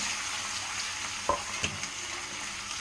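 Potatoes frying in oil with chili powder, a steady loud hiss of sizzling close by, broken by a few brief scrapes of a spoon stirring through the pan.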